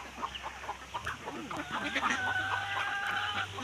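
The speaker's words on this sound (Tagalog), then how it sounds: "Mga itik gimix naman guys, mga itik, manok." Chickens cluck in short bursts on a rural hillside farm, close and fairly loud, with ducks kept nearby and occasional calls from the flock layered over steady background noise.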